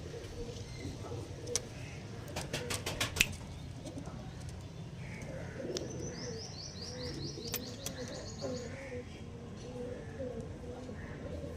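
Pigeons in a loft give soft low cooing amid a few brief chirps and wing or cage clatter, under someone talking throughout.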